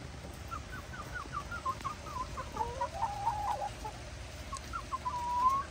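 Chickens clucking close by, a run of short repeated clucks rising into a longer call, over a low background rumble.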